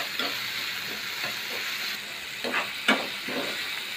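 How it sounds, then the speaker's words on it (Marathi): Chopped green beans stir-fried in a pan with onion for veg fried rice, a steady frying hiss with a few louder scraping stirs of the spatula near the end; no talking. "यामध्ये फरस बी चिरून घेतले ती घालणार आहे। प्रत्येक भाजी थोडं टाकली की थोडं थोडं परतून घ्या।"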